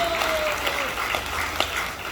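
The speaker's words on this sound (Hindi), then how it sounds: "अरे तालियां तो बजा दो मेरी मां।" Applause from an audience at a religious discourse, a steady wash of clapping that fills the clip at moderate volume, with a faint voice or tone sliding through early on.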